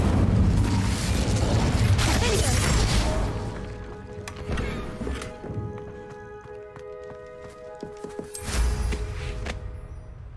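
Fire spell cast in the game Hogwarts Legacy: loud, rushing blasts that fill the first few seconds and then return as a second burst near the end, with quieter game sounds in between.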